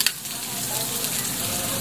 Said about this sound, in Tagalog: Ngayon, ilalagay na po natin ng bawang at sibuyas.